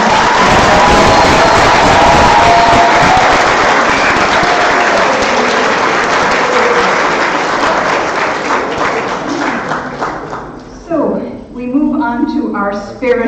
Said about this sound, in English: So a big round of applause for all the